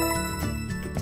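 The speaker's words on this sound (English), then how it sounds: "Push the bell." A small bell on a toy puzzle rings in a few quick bright tinkles, close and clear, with no speech over it.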